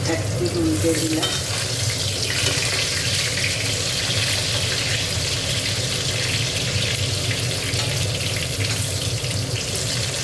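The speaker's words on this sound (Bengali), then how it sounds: "আলুগুলো ভেজে নিচ্ছি।" Potato pieces frying in hot oil in a pan, a steady, dense crackling sizzle that continues evenly throughout at close range, with no voices.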